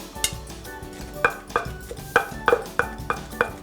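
Shallots and roasted garlic are pounded in a mortar for a Chiang Mai-style Japanese eggplant salad, about eight sharp, close pestle thuds at an uneven, steady working rhythm.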